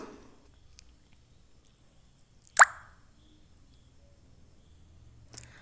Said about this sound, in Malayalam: നമ്മൾ നേരത്തെ മിക്സ് ചെയ്ത് വെച്ചിരിക്കുന്ന കോൺഫ്ലോറിൻ്റെ മിക്സ് നല്ലതുപോലെ ഇളക്കി കൊടുത്ത് ഇതിലേക്ക് ഒഴിച്ചു കൊടുക്കണം